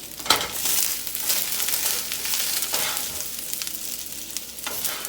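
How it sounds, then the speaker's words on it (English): Instant ramen noodles tossed with garlic in a pot, a continuous hissing sizzle with a few sharp scraping and tossing hits near the start and end, close and moderately quiet, no talk. "I'm just going to toss this one more time."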